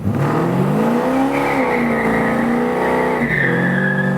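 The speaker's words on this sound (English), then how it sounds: "let's go burn some rubber" A car doing a burnout with its engine revving steadily and loudly at close range, a sustained roar with rising and falling pitch and no voices.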